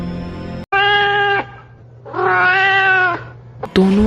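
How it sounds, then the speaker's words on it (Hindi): A black cat as a sound effect in a horror story, giving two long, loud, drawn-out yowls separated by a pause over a low steady hum, with no voices. "उसके पास वह काली बिल्ली आकर जोर जोर से गुर्राने लगती है।"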